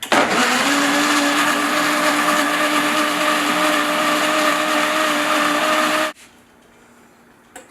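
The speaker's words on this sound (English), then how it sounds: "and then we could start blending it" A blender pulsing almonds and water into almond milk gives a loud, steady motor whir for about six seconds, then cuts off abruptly into near silence.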